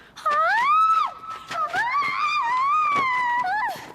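Screaming and wailing voice during hard boxing training, a sustained strained cry with wavering pitch, loud and close, lasting several seconds with brief breaks.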